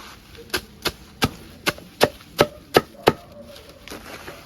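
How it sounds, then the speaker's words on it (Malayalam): Leaves are chopped finely by hand to make green manure for pepper and coffee plants. Eight sharp, evenly spaced chops ring out close and loud, with no talking. "ഇതേപോലെ ചെറുതാക്കി വെട്ടി അരിഞ്ഞിടുക"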